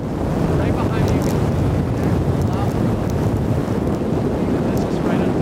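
Strong wind roars and buffets the microphone in a constant heavy rumble near an active volcano in Iceland, at night, with faint voices half-buried beneath the gusts.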